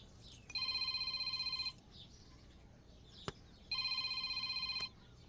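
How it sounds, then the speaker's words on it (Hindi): A telephone rings in a home with tea being served, two electronic ringing bursts about a second long separated by a pause, moderately quiet, with a brief sharp click between them and no talk. "फोन उठाओ, स्पीकर पे करो"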